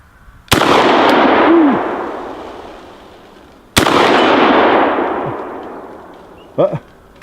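Two loud DP-12 shotgun blasts fired at a steel turkey target outdoors, each a sharp crack with a long rolling echo and a faint metallic ring, spaced about three seconds apart, with a brief voice at the end.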